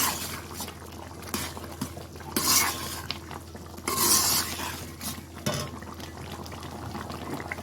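Chicken karahi spices cooking in a pan while being stirred, with steady scraping and clinking of a spoon against metal, a soft sizzle and bubbling underneath, and a few louder stirring bursts.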